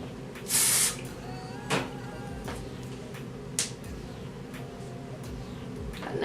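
A short hiss of an aerosol hairspray, then a few faint clicks and taps in a quiet room.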